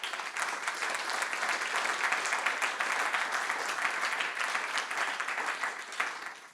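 A conference audience of business leaders applauds a guest speaker, a full, even patter of many hands clapping at moderate volume that holds steady throughout.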